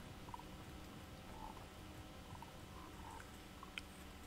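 Purple toads croak in the game Hogwarts Legacy, a few faint, scattered calls over a steady background bed of game ambience, with no talking.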